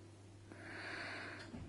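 A dog sniffs close by at food, one sustained nasal draw of breath, soft and near, with no talking.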